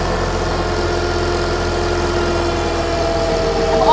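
A tractor engine runs steadily on a dyno, held just under 540 PTO rpm while the throttle is nudged up, giving a continuous loud low drone that climbs slightly toward the end.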